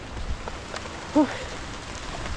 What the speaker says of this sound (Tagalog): inabot tayo ng napakalakas na ulan